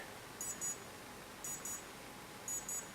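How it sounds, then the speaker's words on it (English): Three faint pairs of short, high electronic beeps from a model engine's receiver repeat about once a second over quiet background hiss. "and you hear the beep"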